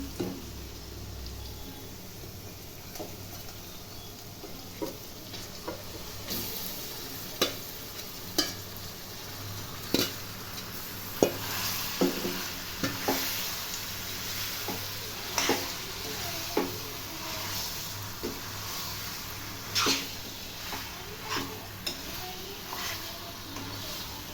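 Marinated chicken for a dhaba-style chicken curry frying in a pan, with a low steady sizzle broken by repeated sharp scraping clicks of a utensil stirring at irregular intervals, close by and moderately loud, without talk.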